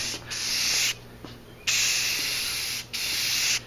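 Spray paint can hissing onto a primed Magneto cosplay helmet in light coats from a distance, three long steady bursts separated by short pauses, loud and close with no talking.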